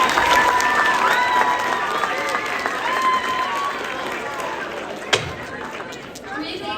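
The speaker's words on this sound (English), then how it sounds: "Three big claps for that speech." An audience applauds after a student candidate's campaign speech at a Kentucky school event. The clapping and crowd chatter hold steady across a large room, then taper off near the end.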